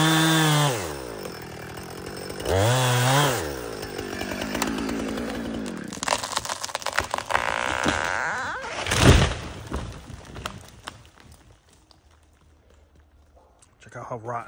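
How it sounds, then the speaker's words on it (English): Husqvarna 455 Rancher chainsaw cutting into a rotten red oak tree, engine revving up and bogging down in the cut, loud and close, then easing off to quieter idling near the end. "Got my saw, 455 Rancher, sharpened up, fueled up, oiled up."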